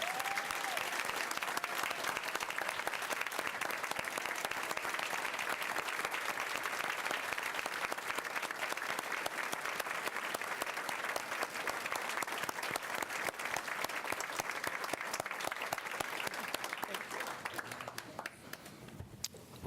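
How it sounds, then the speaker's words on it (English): An audience at a school board meeting gives sustained applause, dense and steady for about seventeen seconds before thinning out and fading to scattered claps. "If you all will join me in giving them another round of applause."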